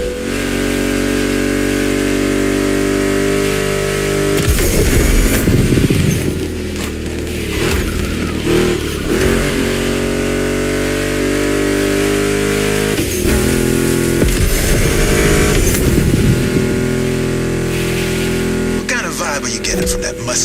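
A Ford Mustang GT muscle car engine revs and roars continuously in The Crew Motorfest racing game, loud and steady with rising surges of acceleration under game music.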